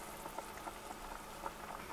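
Water boiling in a pot on a kitchen stove before flour is added for rice pathiri, a soft steady bubbling with small pops, faint and close, with no voices.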